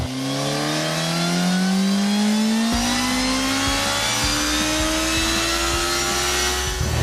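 A motorcycle, a Kawasaki Z1000 or Suzuki GSX-S1000, revs on a dynamometer test bench, its engine pitch climbing steadily to a high scream, loud and continuous with no voices.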